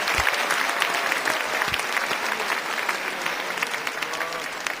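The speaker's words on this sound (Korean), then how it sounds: "서로를 위해서 수고했다고 박수를 한번 쳐주시겠습니까?" A sustained, loud round of clapping from a crowd of university students at a retreat's closing day, thick and continuous throughout.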